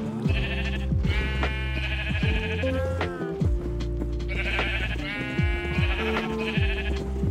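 Sheep in Minecraft bleat repeatedly in overlapping, wavering calls, several animals close together over a steady farm background, with no talking.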